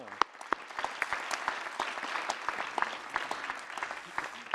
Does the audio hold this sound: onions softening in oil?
no